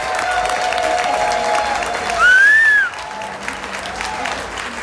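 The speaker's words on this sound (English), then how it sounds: "please, one more time, a big round of applause for Steve" Audience applause and cheering at a live Elvis tribute concert, a steady roar of clapping with a whistle or shout rising above it partway through, then tapering slightly.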